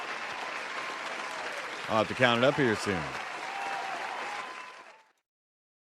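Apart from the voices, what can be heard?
round of applause for Willie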